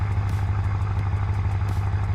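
A BMW 4.0 V8 M Performance engine idles in the BeamNG driving game, a steady low rumble with a faint regular pulsing, close and continuous with no talk over it.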